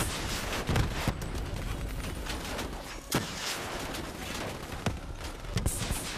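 Rapid bursts of gunfire crackle through a dense, noisy Black Ops 3 campaign soundscape, with scattered sharp shots standing out over continuous rumble.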